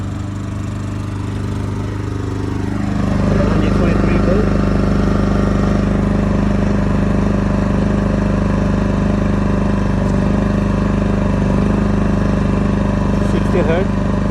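A WEN portable generator powering a 16000 BTU air conditioner starts up after about three seconds and settles into a loud, steady running hum, with someone talking over it.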